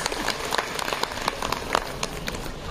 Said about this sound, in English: A very big round of applause to all the